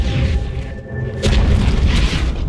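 A tower is destroyed in Dota 2 with a loud, deep boom, followed by rumbling game sounds that swell again partway through.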